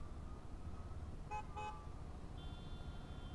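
Two short car horn toots sound at a distance over a low rumble of idling traffic in a jam on the Sonmarg to Srinagar road, faint and with no talk.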